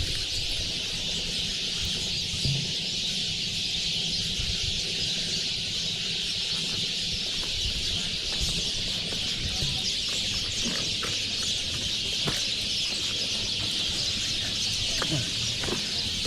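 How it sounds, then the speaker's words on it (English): Morning birdsong at Bourtzi on Skiathos, a steady dense chorus of chirps and calls with a constant bright wash of sound and occasional clucking, continuous and fairly close throughout. "there's a place where the birds of Bourtzi sing a morning song of welcome"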